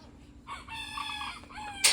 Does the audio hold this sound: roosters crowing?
yes